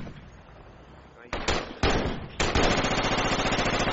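Video game gunfire, rapid bursts of automatic shots loud and close, starting after a quiet stretch and growing denser into sustained firing.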